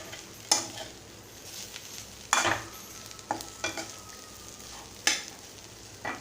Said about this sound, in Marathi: मसाला वाटण घालून आता मी चिरून घेतलेली ही भाजी घालत आहे आणि असं आपण परतून घ्यायचं आहे व्यवस्थित